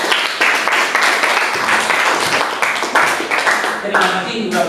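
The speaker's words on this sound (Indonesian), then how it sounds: "Kita berikan tepuk sekali." A school science class gives a round of clapping for students, loud and close, with rhythmic bursts of many hands and voices calling out alongside.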